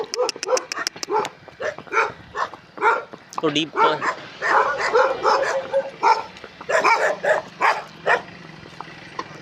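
Several dogs bark repeatedly in quick bursts, close and loud, with yips mixed in, while a person briefly speaks amid the barking.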